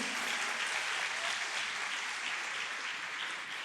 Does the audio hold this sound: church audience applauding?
yes